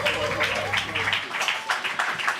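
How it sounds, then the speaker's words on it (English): Audience clapping for a performer at a live event, brisk applause with a low hum in the first half, then thinning into scattered claps and voices toward the end. "Can we give another round of applause to AT Ty, please?"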